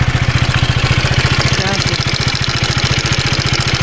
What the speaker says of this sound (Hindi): इंजन से कैसा कुछ कट कट कट कट आवाज़ आ रहा है।